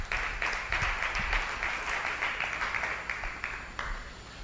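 A Spanish-speaking congregation applauds, a steady run of many hands clapping fairly close and loud for several seconds, with no talk over it.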